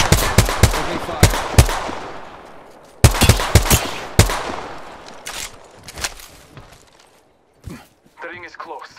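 Rapid bursts of automatic gunfire from the battle royale game Apex Legends, loud and close, in two clustered volleys followed by scattered single shots fading to quieter game sounds.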